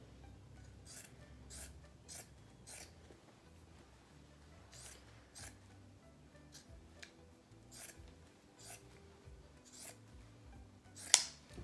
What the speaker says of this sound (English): So we've cut along the bottom of the t-shirt.